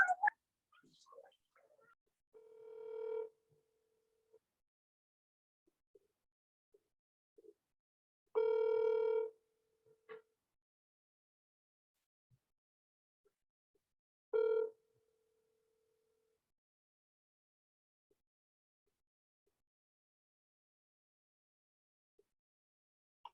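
An outgoing telephone call: a few scattered dial blips, then two long ringback tones separated by quiet gaps, faint and clean with nobody talking.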